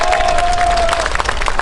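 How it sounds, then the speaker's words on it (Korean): Dense applause and crowd noise fill a labour union strike rally in Mokpo on the first day of a walkout, steady loud clapping from many hands throughout, with no voice over it. "뜨거운 박수 부탁드리겠습니다"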